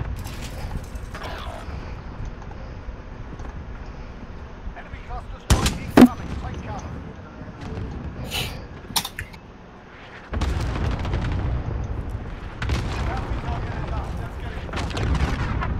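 Gunfire and explosions in the video game Call of Duty during a match: scattered sharp shots and booms over a continuous rumbling background, with heavier sustained fire in the second half.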